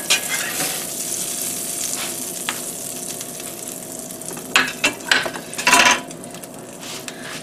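Pork chops brown in a hot pan with a steady close sizzle and frying crackle, broken by a few brief clinks of a utensil against the pan.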